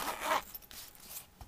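An eyelet-setter case being zipped shut: one quick, close zip stroke, then a few faint scrapes and rustles.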